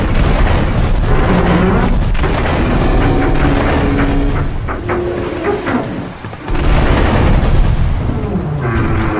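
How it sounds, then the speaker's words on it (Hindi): Cartel ship blown up in GTA 3, a loud, continuous rumbling blast with booming bursts and crackling debris that holds steady for several seconds, dips briefly, then surges back. "क्लाउड और 8 बॉल मिलके कार्टेल की शिप को उड़ा देते हैं"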